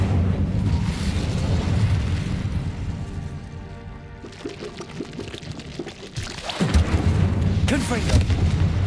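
In Hogwarts Legacy, an Incendio fire spell is cast amid a noisy battle, giving a continuous roaring, whooshing burst of flame mixed with booms and rumbling impacts, loud and sustained throughout.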